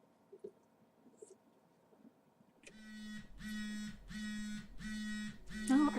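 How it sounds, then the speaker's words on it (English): Repeating electronic alarm pulses in the video game Morph Girl, a steady rhythmic series of about five buzzing beeps starting midway and continuing loud and evenly spaced after a near-silent opening. "Oh, are the alarms getting faster?"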